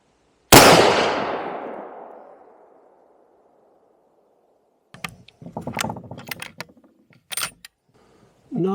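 A single loud rifle shot at a target on a bench range cracks out sharply and rings off over about two seconds, followed later by handling clatter and a few knocks, with no talking.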